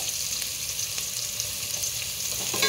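Finely chopped onion sautés with spices in a pan for chicken biryani, a continuous close sizzle and hiss with faint stirring scrapes toward the end.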